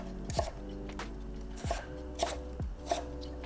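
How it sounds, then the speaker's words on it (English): Knife slicing down through a celery stem on a cutting board, four crisp separate chops spaced unevenly over a few seconds, close and clear with no voices. "And then we're gonna take the stem and we're just going to slice it on down."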